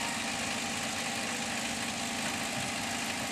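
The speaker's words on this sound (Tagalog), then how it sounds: "May problema lang din ito sa time engine kaya maingay yung makina eh" A Kia Rio with a fitted replacement ECU and a timing fault runs noisily during a road test, a constant rough engine drone with steady broadband noise and no talk.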